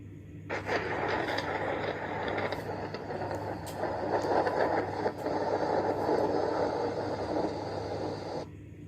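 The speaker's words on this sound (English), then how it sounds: "So let us listen to the sound of clap of thunder." A clap of thunder rolls as a long, loud, broad rumble lasting several seconds, rising quickly, holding steady with slight swells, then cutting off, with no voices.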